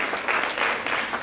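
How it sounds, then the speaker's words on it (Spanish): A church congregation gives loud, sustained applause to the Lord, a dense wash of clapping hands with no pause. "vamos a dar un aplauso fuerte al Señor"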